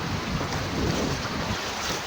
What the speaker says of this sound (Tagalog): Pero malakas na rin yung current ha.